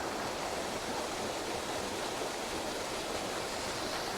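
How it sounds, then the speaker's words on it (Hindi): A large waterfall dropping from a great height on a mountain route, heard as a steady, dense, full-band rushing roar with no breaks, loud and constant throughout. "और ये वाटरफॉल है, काफ़ी बड़ा वाटरफॉल है।"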